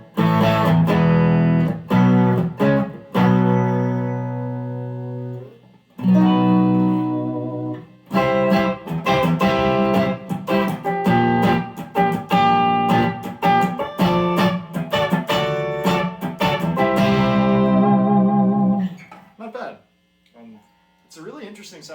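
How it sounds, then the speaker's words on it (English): A Soviet Ural 650 electric guitar plays notes and strummed chords that ring out with sustain and some pauses, a faint hum underneath, ending in a fading tail. "It's a really interesting sounding guitar."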